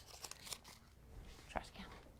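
A sheet of paper from a watershed science activity gets crumpled by hand, a few brief close crinkles and crunches with quiet room noise between them.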